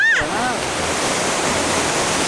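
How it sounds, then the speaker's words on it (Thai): A large waterfall at a Phitsanulok beauty spot roars as a loud, steady broadband rush of falling water, with a brief chirp or squeak at the very start. "นี่น้ำตกใหญ่มาก"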